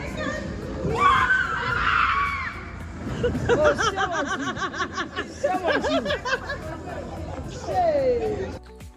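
A girl screams while riding a slippery water slide at a busy recreation spot, her high voice rising over crowd chatter and laughter, with other voices talking nearby.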